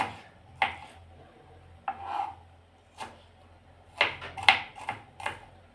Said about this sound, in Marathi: आपण बारीक कांदा चिरून घेणार आहोत